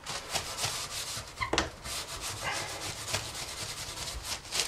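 A blade scrapes thick, baked-on grease from inside an oven in a series of close, rasping strokes. The scraping is moderately loud and irregular, with a few sharper scratches and no voices.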